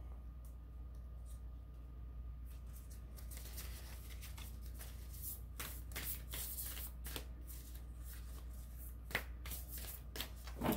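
Heart-shaped tarot cards being shuffled by hand, soft riffling bursts growing busier and crisper over a low steady room hum, close and quiet with no speech.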